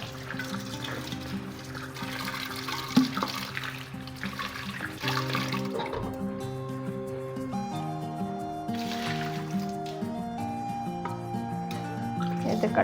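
A fish aquarium being washed by hand under running water, with steady splashing and dripping close by, under background music.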